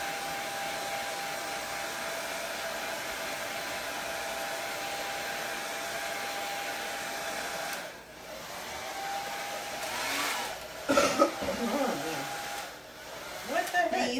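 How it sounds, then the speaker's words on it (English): A hair dryer whirs steadily for several seconds, then cuts out briefly before restarting with some clattering and handling noise. "you playing with the hairdryer?"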